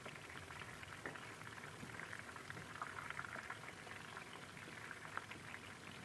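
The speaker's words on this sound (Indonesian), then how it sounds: "ini digoreng sampai mateng sambil sesekali dibolak-balik ya biar matangnya merata" Chicken pieces frying in hot oil and turned now and then, giving a faint, even crackle and sizzle throughout with small pops scattered over it.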